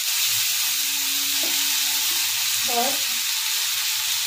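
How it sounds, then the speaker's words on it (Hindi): Dark soy sauce and red chili sauce fry in a pan for restaurant-style veg Cabbage Manchurian, giving a steady close sizzle throughout with a brief spoken word. "हम अच्छे से इसमें भून लेंगे"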